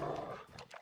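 A dog in a close, brief moment of growling and barking, gruff and low, fading out within a second.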